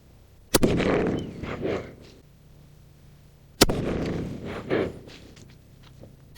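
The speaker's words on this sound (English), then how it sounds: "Let's shoot one more quick group and then we'll move to the other rifle." Two sharp, loud rifle shots from a lightweight Bergara rifle crack a few seconds apart outdoors, each followed by a rolling echo that fades away.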